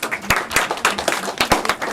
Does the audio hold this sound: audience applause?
yes